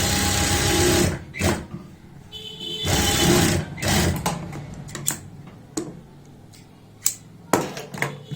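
A sewing machine stitches a seam on palazzo pants in short stop-and-start bursts, with clicks and fabric handling in the gaps between runs.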